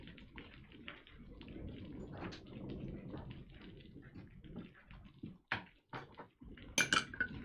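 Spoon stirring a cocktail in a glass, faint clinks and soft liquid swirling close by, ending with a few brighter taps against the glass.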